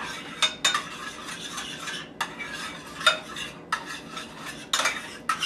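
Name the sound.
stirring apricot jam and brandy liquid in a pan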